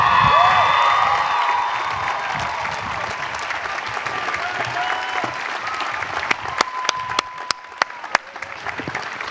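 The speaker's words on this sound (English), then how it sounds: "please join me in a round of applause for the graduating class of 2012." A commencement audience claps and cheers for the graduating class of 2012, a broad, steady wash of applause with scattered whoops and a few sharp, close claps near the end.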